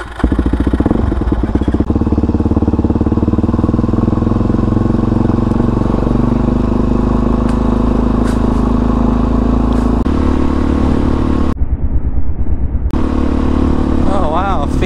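A 2022 Peacesports Brozz Recon 250, a street motorcycle with big dirt-bike tires, is ridden with a loud, steady engine drone and wind rush throughout, while a rider talks over it.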